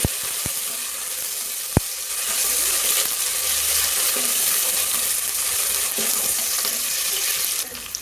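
Gongura mutton curry is stirred in a pan with fried onions, mint and coriander, giving a steady hissing sizzle with a few sharp spoon taps on the pan near the start.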